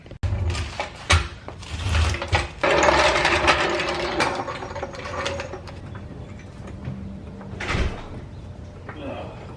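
A car jack cranks up a Mazda Mazdaspeed 6, with clicking ratchet and mechanical creaks close by, ending in a louder clunk, alongside some shuffling noise.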